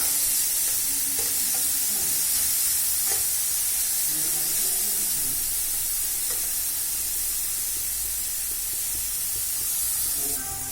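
Star fruit (carambola) chutney frying in a pan over lowered gas, with a steady close sizzle and occasional scraping stirs running unbroken throughout.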